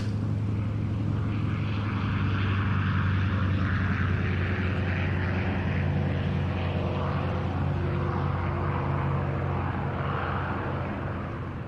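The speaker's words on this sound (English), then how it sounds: "And here they come, ladies and gentlemen, the Lancaster, Yes. Hurricane and Spitfire of the Royal Air Force Battle of Britain Memorial Flight." An Avro Lancaster, a Hawker Hurricane and a Supermarine Spitfire of the Royal Air Force Battle of Britain Memorial Flight pass overhead at a Duxford flying day, their piston engines making a steady, distant drone that stays at an even level throughout.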